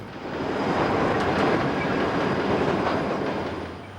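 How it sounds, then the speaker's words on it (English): A westbound Union Pacific freight train led by C41-8W locomotive UP 9531 rolls through the Feather River Canyon. It gives a steady, loud rushing roar of wheels and cars passing close by for the whole stretch, with no talk. "Headed west on the south leg of the Y is a westbound canyon subtrain led by UP 9531."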